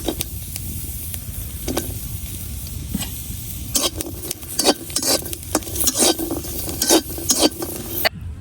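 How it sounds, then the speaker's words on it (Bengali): Dried red chillies and onions fry in a hot wok, giving a steady crackling sizzle. Repeated scraping clinks from a spatula cut through it as the pan is stirred, and nobody speaks. "আমার পেঁয়াজ গুলাও বাজা হয়ে গেছে"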